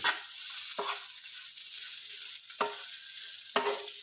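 Sautéed okra sizzles softly in a curry pan, with a steady hiss punctuated by three or four distinct scraping stirs of a spoon at regular intervals; quiet, close, and without any talking.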